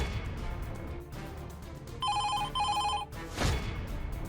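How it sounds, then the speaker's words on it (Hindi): A telephone bell rings in two bright trilling bursts of about half a second each, fairly loud and close, followed by a brief noisy thump, over a steady background murmur. "फोन की घंटी बजी"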